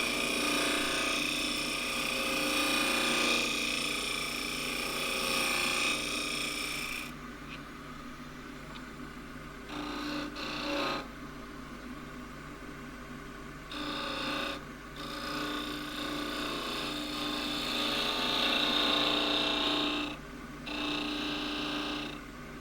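A 3/8 spindle gouge cuts green elm turning on a lathe for a small pot, a steady motor hum under soft scraping and hissing cuts that start and stop in intermittent passes, fairly faint.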